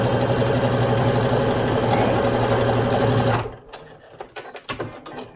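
A sewing machine runs a continuous, steady top stitch on a zipper bag, loud and close. It then stops abruptly, leaving a few light clicks and handling noises.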